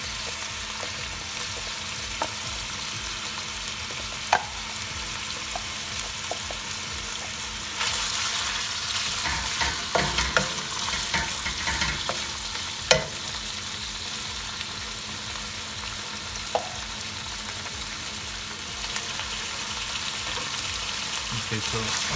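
Beef sizzles and fries with Thai curry paste in a pan, a steady crackling hiss broken by occasional scrapes and clatters of stirring, close and continuous.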